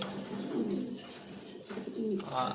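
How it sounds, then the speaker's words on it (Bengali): Racing pigeons coo softly in low, rolling murmurs, heard close but faint against quiet background noise, with no talking. "কি লাইনের কবুতর এটা"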